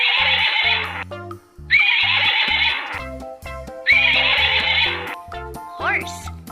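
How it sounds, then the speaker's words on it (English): A horse neighs in three long, loud whinnying calls separated by short gaps, with a backing music track playing beneath and a final rising squeal near the end. "Horse."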